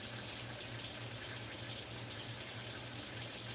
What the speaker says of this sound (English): Now you thinking that's just the water running.